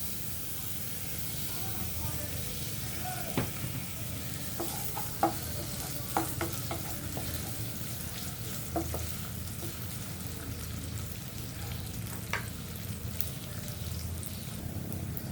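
Chopped onion frying in oil in a home kitchen pan, with a steady sizzle and hiss running throughout and scattered scraping clicks of stirring, close and moderately loud.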